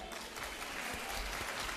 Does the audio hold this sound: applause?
yes